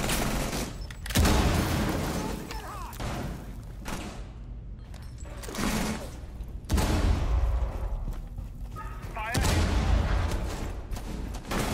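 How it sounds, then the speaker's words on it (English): Frag grenade blasts in a Rainbow Six Siege match, several loud booming explosions with rumbling decays spaced a few seconds apart, mixed with clattering game sounds and no talk. "Throwing frag."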